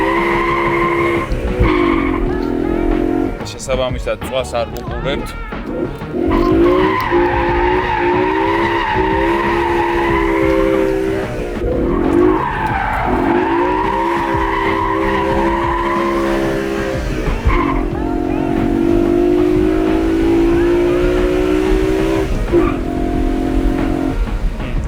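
A BMW E92 M3 with its V8 is driven hard, tires skidding and squealing over a continuous loud engine drone that rises and falls with the throttle, close to the microphone, with a brief spoken remark early on.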